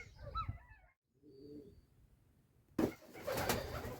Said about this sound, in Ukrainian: Так, ми голубятні. Дивимося на птицю.